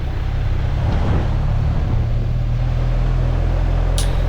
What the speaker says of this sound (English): I spotted a car coming towards this bend, so I'm expecting to meet something.